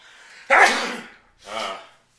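Two short, sharp sneezes close by, the first louder and explosive, the second softer, with brief silence around them.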